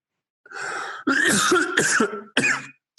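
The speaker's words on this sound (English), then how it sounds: "I felt that cough coming for a while." A few harsh bursts of coughing and throat clearing, close by, with short pauses between them and no talking.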